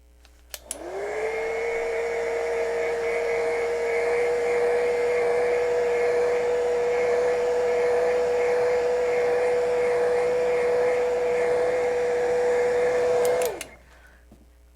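Hair dryer blowing steadily on a painting to dry it fast, a close, continuous whirring hum that starts up, holds for about twelve seconds and then switches off.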